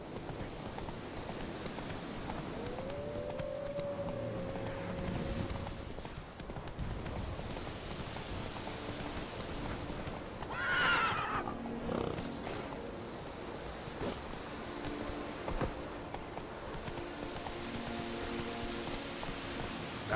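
Steady clip-clop of Roach the horse galloping in The Witcher 3 under ambient rain-like noise, a continuous hoof rhythm with a brief whinny partway through.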